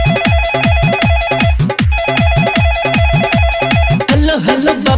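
A phone ringtone plays loud and close within a Bhojpuri Bol Bam devotional song, with repeating electronic tones over a punchy rhythmic beat.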